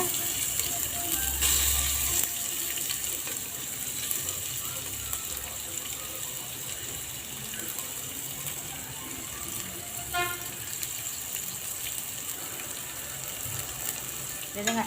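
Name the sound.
onions frying with cinnamon, cardamom and bay leaf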